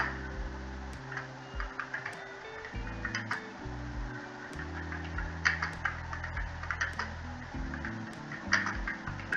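Keys clatter on a computer keyboard during a beginner coding lesson on events, with light, scattered clicks in short irregular runs over a soft, steady musical background.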